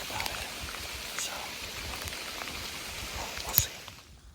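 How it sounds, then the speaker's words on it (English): Steady rain patters across a surface, a soft continuous hiss of drops with no voices. "Lots of rain."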